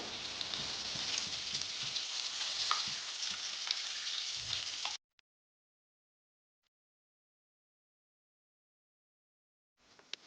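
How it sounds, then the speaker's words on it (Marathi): Eggs stir-frying in masala with a pinch of turmeric for egg curry, a close crackling sizzle with stirring scrapes and taps for about five seconds, then near silence. "आता हे छानपैकी खालवर करत परतून घ्यायची आहे अंड्याची"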